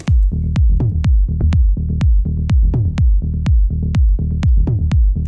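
A loud melodic techno loop driven by punchy tuned tom hits with descending pitch, interleaved with sharp clicky transients in a steady, tight groove.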